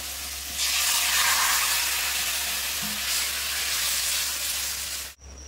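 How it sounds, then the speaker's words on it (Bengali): Fish curry broth with papaya and potato boiling vigorously in a pot, a dense continuous bubbling hiss that holds steady for several seconds before cutting off abruptly near the end, fairly quiet with no voices. "তো দেখো ঝোলটা কিন্তু খুব ভালো করে ফুটে গেছে"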